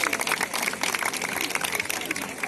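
Zoo audience at a sea lion show breaking into dense, steady applause, a continuous wash of many hands clapping with crowd murmur mixed in.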